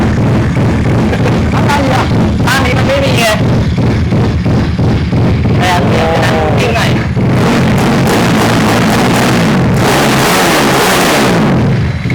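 A kick-started motorcycle from a cowboy-kid custom build, its engine running loud and close with continuous rough throbbing and revving surges, while people talk over it.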